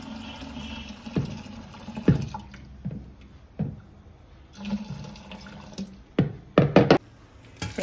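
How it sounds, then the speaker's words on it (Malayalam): Hot water poured into a pot of boiling tapioca, heard as intermittent splashing gushes and pouring bursts separated by quieter gaps, with a cluster of louder splashes near the end. "ഇനി അതിലേക്ക് ചൂടുവെള്ളം ഒഴിച്ചു കൊടുക്കാം കേട്ടോ."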